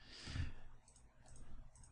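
Computer mouse clicks while modeling in Blender 2.6: one clear click near the start, followed by faint desk and room noise with a few light taps.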